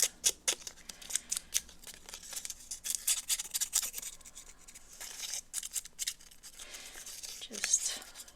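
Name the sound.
scissors roughing up collage paper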